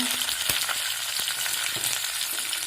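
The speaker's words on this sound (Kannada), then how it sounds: "ಅರ್ಧ ಸ್ಪೂನ್ ಜೀರಿಗೆ ಹಾಕ್ತಾ ಇದ್ದೀನಿ ಕರಿಬೇವು ಇದ್ದೀನಿ ಸ್ವಲ್ಪ" Cumin seeds and curry leaves fry in hot oil as a tempering for raw mango gojju, giving a close, steady sizzle dotted with a few sharp pops and crackles.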